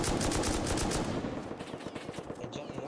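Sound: M2 machine gun firing from tower in Rust video game

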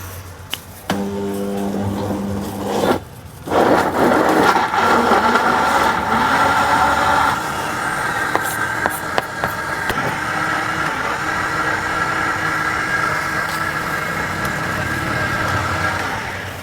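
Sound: blender blending beetroot juice with mint and water

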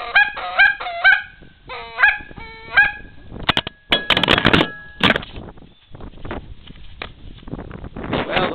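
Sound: Super Mag goose call being blown

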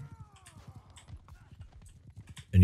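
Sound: horse hooves in Mount & Blade 2: Bannerlord video game

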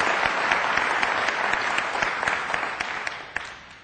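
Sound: audience applause in church

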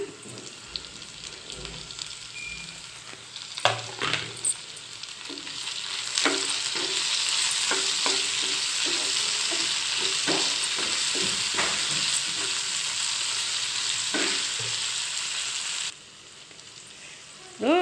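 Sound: tomato added to pan, frying and stirring

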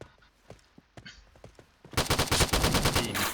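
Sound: Ultimax machine gun firing in Point Blank video game

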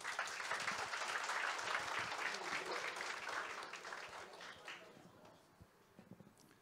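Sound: audience applause at a lecture

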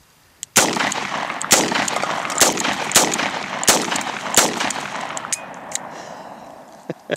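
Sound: 44 Magnum gunshot with 240 grain flat point reloads

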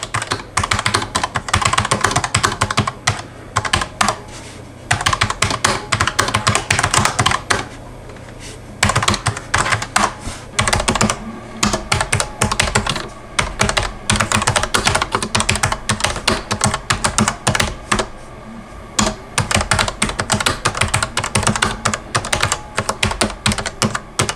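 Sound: mechanical keyboard typing

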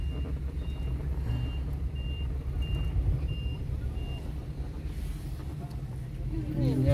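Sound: driving-test truck reversing with backup beeps

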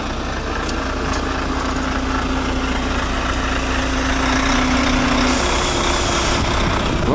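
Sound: Volvo truck arriving and maneuvering

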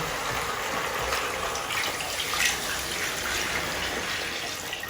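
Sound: water being poured into pot

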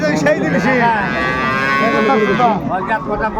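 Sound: cow mooing at a cattle market

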